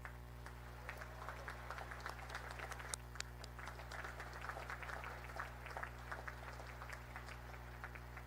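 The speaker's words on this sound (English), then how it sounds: "please join me in giving them a heartfelt round of applause." A large audience at a Naval Academy graduation and commissioning ceremony claps in sustained, dense applause, steady and moderately distant over a low constant hum.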